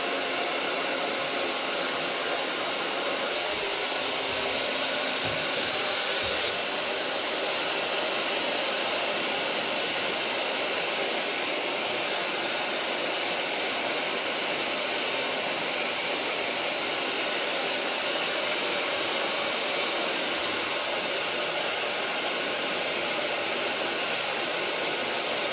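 A hair dryer blows on curly hair in a continuous, loud, close roar that holds steady for the whole stretch, with a slight shift in tone early on and no talking.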